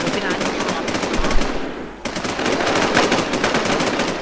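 Rapid automatic gunfire rattles in the survival shooter game Infestation, a dense, loud string of evenly spaced shots that breaks off briefly mid-burst and then resumes.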